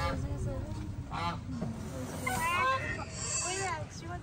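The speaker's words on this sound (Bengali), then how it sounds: "এই দেখো রাজহাঁস দুটো।" Two geese honk in short, harmonic calls at a rural resort in Purulia, with a few cries in the middle and near the end, heard over steady outdoor noise and people talking.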